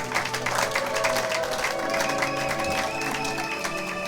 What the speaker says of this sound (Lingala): Acclamons pour la gloire éternelle notre Dieu, notre Seigneur.